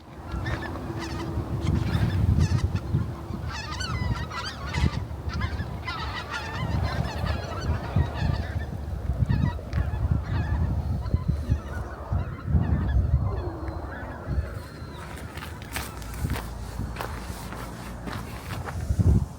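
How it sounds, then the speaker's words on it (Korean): A flock of migratory birds honks and calls continuously, goose-like and fairly close, over soft footsteps along a riverside canyon trail. "길을 걷는 중에 철새가 무리지어 나는 모습을 볼 수 있었습니다."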